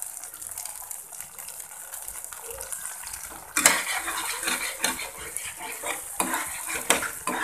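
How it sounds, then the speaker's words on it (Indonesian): Spicy chicken wing sauce bubbles and sizzles in a pan, quiet at first, then louder popping and scraping as it's stirred with a utensil. "Ini kita masak sausnya sampai meletup-letup ya."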